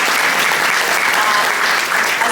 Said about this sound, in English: a great big thank you and a round of applause to 169 volunteers for the county fair